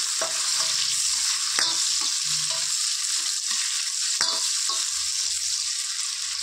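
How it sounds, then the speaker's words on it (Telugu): Four medium onions and four green chilies fry with cumin in a pan, a loud, even hiss of oil with occasional sharp spatula scrapes against the pan and no speech. "ఇది మంచిగా ఫ్రై అవ్వనిద్దాం ఫ్రెండ్స్ ఆనియన్స్"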